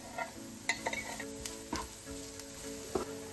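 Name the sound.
onions and garlic frying in oil in a pan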